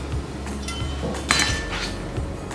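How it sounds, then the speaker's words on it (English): A knife cuts an onion in half on a board, giving a few close clinks and thunks over a low steady kitchen background, one sharper knock in the middle. "trim this off, cut the onion in half"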